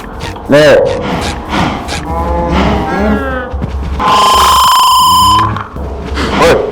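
Minecraft cows in a cow pen moo in long, low, droning calls, loud and repeated, alongside someone talking in Thai and a harsh buzzing game tone.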